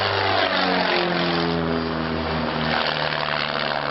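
Vintage propeller airplane displaying at the Shuttleworth Collection airshow at Old Warden, England, a loud, close engine roar with a falling pitch as it passes, continuous throughout.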